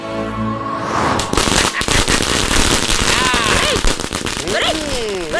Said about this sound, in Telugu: క్రాకర్స్ కాల్స్తున్నాను